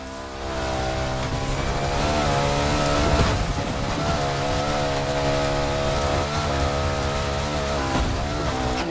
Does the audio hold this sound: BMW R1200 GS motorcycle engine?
yes